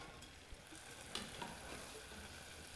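Banana fritters fry in hot oil for a Holi kela jhun sweet, giving a faint, steady bubbling sizzle with a few soft clinks, quiet and alone.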